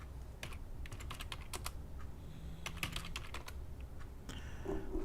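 Fast, steady typing on a computer keyboard during a live coin night auction, close and dry, with dense irregular key clicks and brief bursts filling the whole stretch and no voices.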